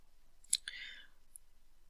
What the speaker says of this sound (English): I will just be clicking the buy button at the top of the screen